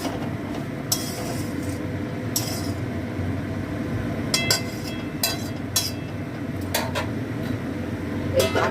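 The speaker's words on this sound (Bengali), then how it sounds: "এই ঢাকা দিয়ে দিলাম, আঁচ কমানোই আছে।" A lid settles onto a cooking pot of pumpkin simmering on low heat, giving a few light metallic clinks and clatters against a steady low kitchen background.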